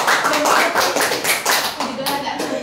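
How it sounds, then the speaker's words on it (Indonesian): An audience claps at a gathering where a cancer survivor is being encouraged. A short, steady burst of many hands clapping is heard, close and fairly loud, with voices mixed in. "Udah tepuk tangan lah kalian untuk dia udah begini."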